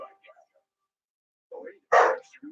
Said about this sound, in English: Dogs literally cannot keep quiet at all.